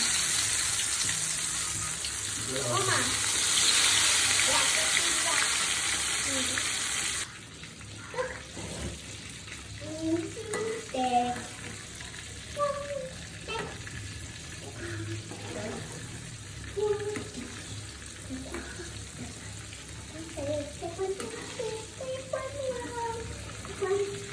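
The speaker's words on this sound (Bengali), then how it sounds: "কড়াইতে আগেই তেল দিয়ে দিছিলাম, এখন বেগুনটা দিয়ে দিচ্ছি।" Eggplant slices hit hot oil in a wok and hiss loudly for several seconds. The frying then settles into a quieter, steady sizzle with small pops while a person talks over it.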